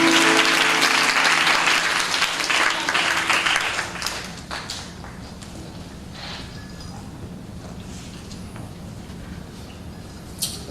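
A church congregation claps together at the close of a worship song during a revival meeting, loud and dense at first, then thinning and fading to scattered claps with murmuring.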